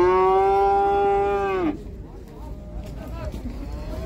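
A female calf lows at a cattle livestock market: one long, loud, close moo that falls at the end and is followed by quieter market background noise.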